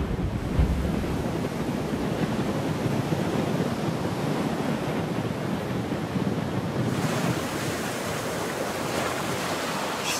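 Strong wind and surf pound a tropical island coast, a dense continuous roar of gusts and breaking waves that stays loud throughout, with no voices.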